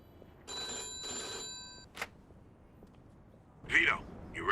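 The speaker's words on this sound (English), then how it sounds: "let's answer the phone" An old-style telephone bell rings in two bursts in the Mafia 2 video game, fairly clear and distinct, followed by a brief click and then voices speaking.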